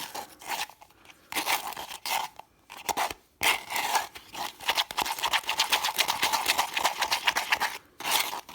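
Thick thinset tile adhesive for mosaics is stirred by hand close up, a rhythmic run of wet scraping and gritty rasping strokes with brief pauses between them.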